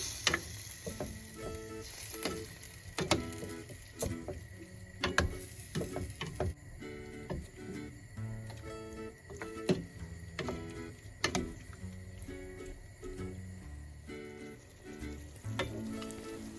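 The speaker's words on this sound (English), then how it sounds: "Then we'll continue to stir it until the sauce is thickened." Beef and broccoli in garlic sauce sizzle steadily in a hot pan while a utensil stirs and scrapes in repeated clicks as the sauce thickens, with no voices.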